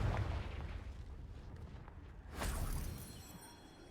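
A Confringo blasting spell from Hogwarts Legacy fires off in a single muffled boom with a short rumbling burst, quiet and fading quickly after a softer lead-in.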